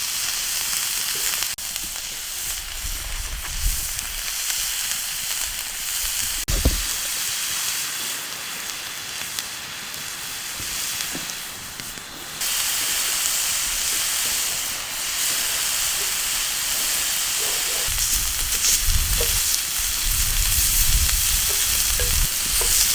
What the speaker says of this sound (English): I've never cooked fajitas on a griddle.